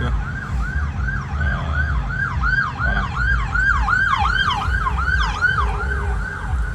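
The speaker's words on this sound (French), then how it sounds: "il y a une ambulance qui demande de céder le passage" An ambulance siren wails in rush-hour traffic on the Samuel de Champlain bridge, a loud repeating rising and falling tone over road rumble, with a brief word spoken.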